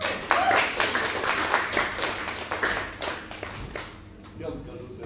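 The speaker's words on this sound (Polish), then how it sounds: "Wielkie brawa już teraz przed wami na tej scenie." Audience applause and clapping at an open-mic comedy night in Berlin, a steady, dense wash of hands close by that carries on for several seconds and thins toward the end, with a voice talking over it.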